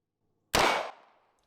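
A single sharp 9 mm gunshot cracks out near and loud, then its echo fades quickly into silence.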